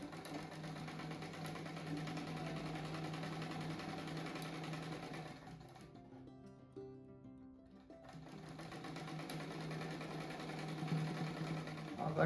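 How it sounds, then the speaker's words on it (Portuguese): Sewing machine stitching two patchwork blocks together for a patchwork rug, a steady mechanical whirr running almost throughout, briefly pausing midway before resuming. "agora eu vou costurar um bloco no outro aqui"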